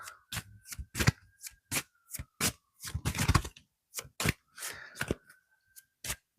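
A deck of cards is shuffled at close range during a pick-a-card reading, giving a quick series of crisp riffling and snapping bursts with short pauses between them and no talking.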